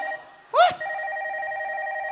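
A telephone rings once in a short trilling burst, cutting in over a steady tone during a comic Isan mor lam comedy sketch.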